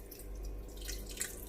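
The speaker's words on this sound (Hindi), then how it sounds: "हमने जो लहसुन वाला पानी बनाया है ये ऐड करेंगे" Garlic-infused water is poured into mutton in a karahi, producing a brief, faint trickle and drip against a low background hum.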